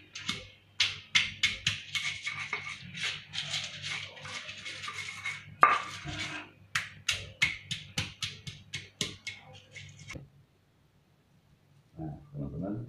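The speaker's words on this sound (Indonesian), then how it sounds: "Sekarang kita ulek." A stone pestle pounding and grinding spices in a stone mortar, making a close, rhythmic run of sharp knocks and scrapes that stops near the end, followed by brief faint speech.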